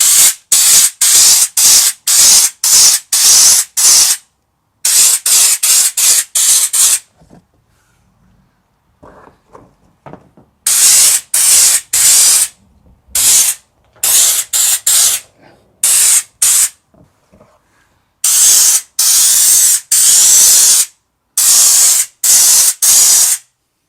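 A Wiltec air-operated rust proofing undercoat spray gun sprays underneath a car in loud, close bursts of hissing, each lasting from one to several seconds, with quiet gaps between them.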